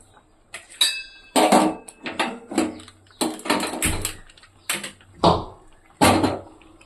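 A metal kadai set down on a lit home kitchen stove, with a run of sharp metallic clanks and knocks in an uneven rhythm, close and fairly loud, and no talking.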